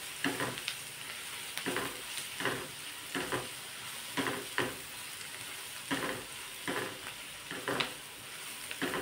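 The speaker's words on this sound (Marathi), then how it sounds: "तर सर्व हे टाकून घ्यायचं. 1-2 मिनिटं परतून घ्यायचं आहे." Soya chunks sautéing in a pan sizzle steadily, broken by repeated scraping stirs at a regular pace, moderately close and with no talking.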